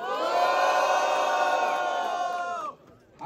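A crowd at a rap battle roars with loud, sustained cheering and shouting for nearly three seconds, then cuts off abruptly into near quiet before a fresh swell rises at the end.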